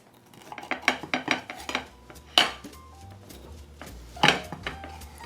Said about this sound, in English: Now I'm going to cut it, and then we're going to taste it.